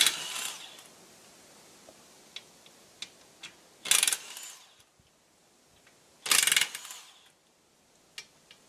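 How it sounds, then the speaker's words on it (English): A DeWalt electric impact wrench works on a lawn tractor wheel nut: two loud, rattling bursts of hammering a few seconds apart, with scattered clicks and tool handling in a quiet workshop between them. "Dewalt wrench is more powerful than an air"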